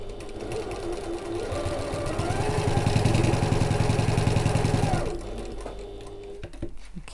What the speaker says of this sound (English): we're going to sew down the side and then along the bottom and back up the other side